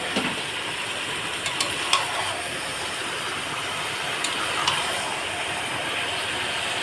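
Fried potatoes and chicken stir-fried together in a pan, giving a steady close sizzle with a few faint scrapes of the spatula, and no voices.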